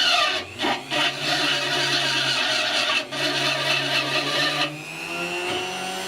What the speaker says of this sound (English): I've got a little rotary burr on the end of my Dremel tool